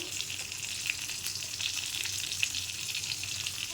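Taro pieces fry in the leftover oil from frying rohu fish, with salt and turmeric added: a steady, close, hissing sizzle with faint crackles throughout and no talking.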